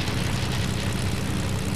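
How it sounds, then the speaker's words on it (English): A propeller airplane engine in the Fortnite video game drones steadily and loudly, a dense, unbroken roar with no talk over it. "I'm trying to get on this airplane."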